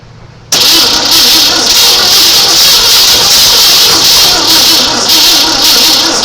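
A 1972 Evergreen shortbed dually truck engine cranks and catches after half a second of quiet, then roars into a loud, steady idle up close, with no speech over it.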